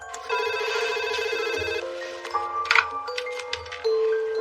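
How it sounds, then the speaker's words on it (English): A telephone in a hotel room rings loud and close, its electronic trill repeating in bursts, with a few clicks and knocks in between and no speech. "the phone rang"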